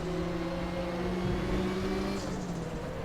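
A Volvo 240 Turbo race car in a racing game at Norisring drones steadily at moderate level. Its engine tone holds and wavers as the clutch is kicked to build boost, with a slight shift near the end.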